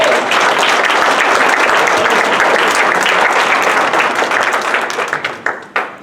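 Sustained audience applause at an MLK labor banquet, dense and loud, with many hands clapping continuously before it thins out and fades near the end.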